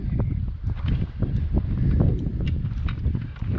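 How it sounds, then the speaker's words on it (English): Steady wind at the Enterprise Boat Ramp on Lake Oroville roars and thumps against the microphone in low, uneven gusts, with no voices. "it's super windy"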